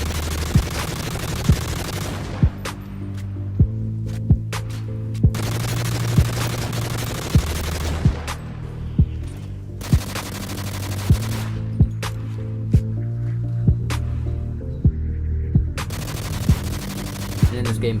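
Rapid-fire gunfire in a video game played through a CronusMax adapter with a rapid fire setting, dense sustained shooting under steady game music and evenly spaced sharp cracks, with someone talking over it.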